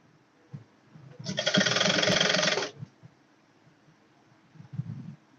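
A sewing machine runs in one steady burst of about a second and a half, stitching a sleeve onto the yoke of a corset, with quiet handling noise before and after.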